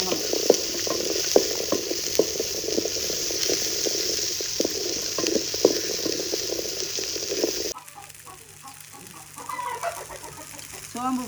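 Onions frying in a pan for an aattukkaal kulambu (goat trotter curry), with a steady sizzle and repeated clinks of stirring that break off partway, leaving quieter pan clatter alone.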